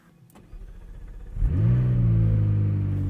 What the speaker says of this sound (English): So let's fire up this twin turbo V8 and get on the road.